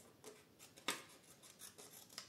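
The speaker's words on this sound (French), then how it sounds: "Ensuite, vous prenez vos ciseaux" Scissors snip through paper during a scrapbooking project, a few short crisp cuts with one sharper, louder snip in a quiet room.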